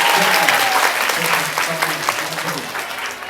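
Audience applause at a Happy Palit Day 2022 celebration event: steady dense clapping from a sizeable crowd, loud and continuous throughout with no pause.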